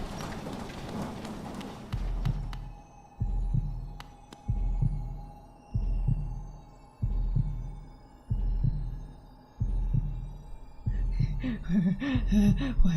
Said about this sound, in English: Why does it sound like a heartbeat?